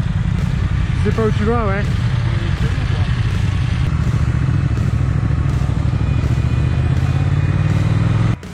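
A Triumph Speed Twin motorcycle rides along narrow country roads, its engine a steady, loud rumble throughout with wind noise, while a rider talks briefly over it.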